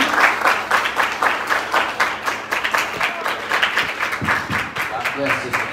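Congregation at a Church of God in Christ Sunday service clapping steadily in rhythmic, fairly loud bursts, with voices mixed in and a speaking voice near the end.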